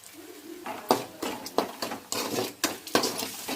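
A spoon stirs masala with salt and chili powder in a pan for a kabuli chana curry, giving close, quiet rhythmic scrapes and clinks against the metal.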